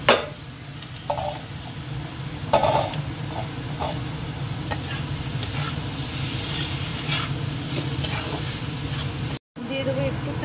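Radish stir-frying in an oiled pan, a continuous loud sizzle broken by repeated scraping and clattering stirs of a spatula, with a brief dropout near the end.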